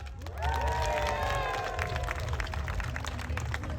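County fair crowd at a pig race cheers and claps for a racing pig, a swell of applause and whoops rising quickly and holding steady, with a voice ringing out above it at the start.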